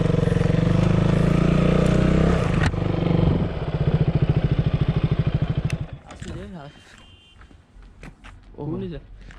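A Street Fighter motorcycle engine runs loud and close on a road near Bhujio Dungar in Kutch, then chugs and cuts out, leaving quieter background sounds and scattered voices.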